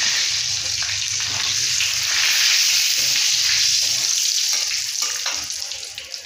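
Whole spices including bay leaves, cumin seeds and cinnamon sizzling in hot oil in a pan, giving a loud, close, steady hiss that swells slightly, then slowly fades, with soft stirring clinks and no talk.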